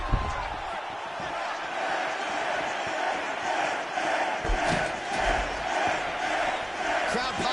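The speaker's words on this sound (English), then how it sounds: "Crowd pops as Jędrzejczyk gets back to her feet." An arena crowd in the UFC 6 video game swells into loud, sustained cheering and roaring with rolling surges, while a commentator's voice runs over it.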